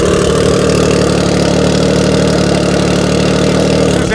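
A snowmobile engine idles steadily nearby on a cold day before a race, a loud continuous rumble with a dense harmonic drone that holds level throughout, with no voices.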